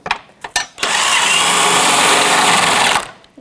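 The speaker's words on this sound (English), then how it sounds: "I'm going to grab the gun with the 21mm socket on it." A pneumatic impact gun fitted with a 21mm socket runs on a front ball joint of a 2007-2017 Jeep Patriot: a couple of short rattling bursts, then one loud, steady buzzing run of about two seconds that cuts off abruptly.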